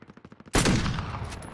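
Video game gunfire, a quick rhythmic string of light shots followed by one loud close blast that decays slowly.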